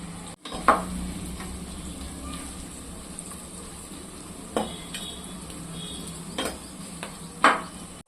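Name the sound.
onions frying in a pan for chicken biryani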